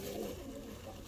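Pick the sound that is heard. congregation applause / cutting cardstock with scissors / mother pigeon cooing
mother pigeon cooing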